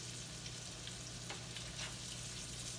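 Crab cakes fry in a pan with a steady, close sizzle and crackle that runs unbroken throughout, with no voices over it.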